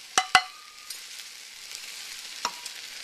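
Orzo, mushrooms and butter sautéing in a pan give a faint, steady sizzle, broken by two quick utensil clinks near the start and another soft knock later.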